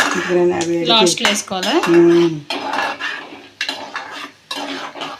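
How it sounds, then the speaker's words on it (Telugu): Cashews and raisins frying in a pan for rava laddu, stirred with a metal spoon: clattering scrapes and knocks against the pan in bursts, close and loud, with a voice heard at the start. "జీడిపప్పు వేసుకుందారు కిస్మిస్ పళ్ళు అయితే ఉత్తనే ఎగిపోతాయి"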